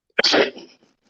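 A single sharp human sneeze bursts out close and loud, trailing off quickly into silence.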